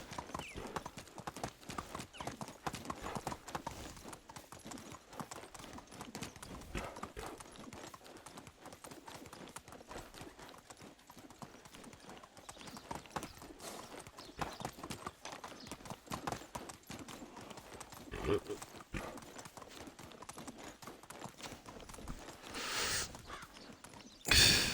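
A horse trots along in Medieval Dynasty with steady, rapid clip-clop hoofbeats throughout, moderately close, and a brief whinny near the end.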